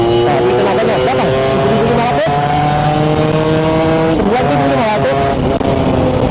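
A Yamaha F1ZR motorcycle accelerates hard in third gear on the road, its engine note climbing steadily in pitch with a loud, close, sustained whine and a brief dip partway through.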